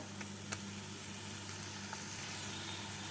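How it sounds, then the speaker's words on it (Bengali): Spices, salt, turmeric, cumin, coriander and ginger-garlic paste fry in a pan for a paneer dish, giving a steady, soft, even sizzle with a few faint clicks over a low hum. "লাল লঙ্কা গুঁড়ো কাশ্মীরি লাল লঙ্কা গুঁড়ো চিনি অল্প জল দিয়ে মশলাগুলোকে ভেজে নেব"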